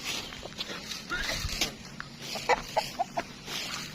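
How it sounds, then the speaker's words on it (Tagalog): Pet chickens at a rural house in Batangas, Philippines, give a few short clucks at middle distance over a faint outdoor background with some footsteps and light movement. "May awang alagang manok dito oh."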